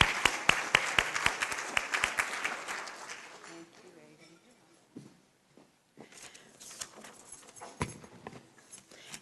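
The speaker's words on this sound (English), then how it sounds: "Let's give Ahi a round of applause." Audience applause welcoming a sales manager onto the stage at a retail business forum: a burst of sharp claps that fades after a few seconds, then scattered claps and footsteps as the sound settles.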